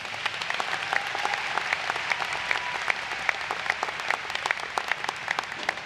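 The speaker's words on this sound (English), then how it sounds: "Let's give ourselves a big round of applause." High school graduation crowd applauding at a ceremony: steady, sustained clapping from a large audience, moderately loud and even, with individual claps standing out through the wash.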